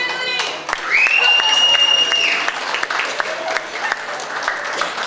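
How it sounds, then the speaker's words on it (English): Audience at an Evans High School symphonic band performance claps for the band, a steady round of applause mixed with voices and a brief whistle-like tone near the start. "give a round of applause"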